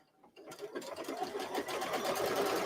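Embroidery machine stitching a batting tack-down line on a small mini-quilt, a steady, close, rhythmic stitching rattle that starts after a brief quiet moment and runs continuously to the end.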